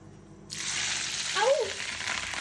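Green chillies drop into hot oil with red chillies for a kari pakora tempering, bursting into a steady close sizzle that swells briefly as they hit, with faint background sounds.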